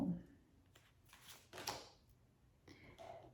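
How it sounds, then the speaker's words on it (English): Tarot cards are shuffled in a few quiet, soft riffling bursts close by, separated by short pauses. "let me just shuffle and pull."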